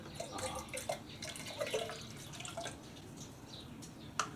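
Water trickles and drips nearby in a quiet room as it is poured into cups, with soft splashes and small plinks scattered irregularly, one sharper drop near the end.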